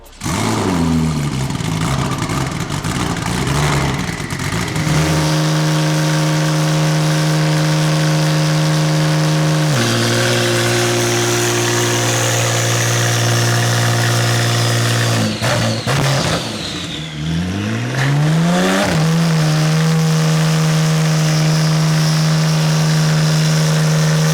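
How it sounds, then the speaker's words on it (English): A Porsche 992 Turbo S built for 1500 bhp runs on a dyno, its engine holding steady loud drones, dropping between pulls and sweeping up and down in rev changes, close and continuous. "So we got the 992 on the dyno."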